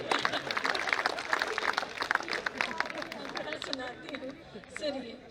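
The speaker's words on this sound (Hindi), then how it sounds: "एक बार तालियां बजाइए।" Audience clapping at a Hindi kavi sammelan poetry gathering, a dense burst of applause with crowd murmur that gradually thins out, fairly faint and distant.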